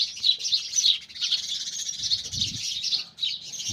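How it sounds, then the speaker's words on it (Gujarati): Many house sparrows chirp continuously in a busy, high chattering chorus in a village, close and fairly loud, with a brief low thump midway. "ચકલાનો અવાજ સાંભળો"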